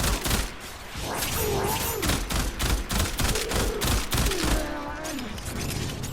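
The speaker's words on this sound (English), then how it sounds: "I like the way this gun sounds too." Rapid bursts of Burston Prime rifle fire in the game Warframe crack and thump in quick succession, dense and continuous, with a faint voice murmuring underneath.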